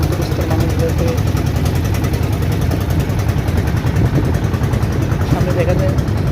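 A motorized trawler boat runs on a river with a loud, steady, rumbling engine drone and a constant chugging vibration that fills the whole stretch with no break.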